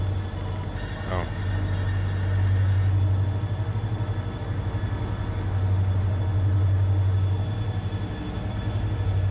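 A long train rolling steadily in the RailRoader game, with a deep low rumble that swells and fades, a brief high squeal early on and a faint voice underneath.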